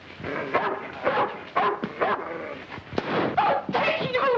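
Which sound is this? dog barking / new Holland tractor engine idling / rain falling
dog barking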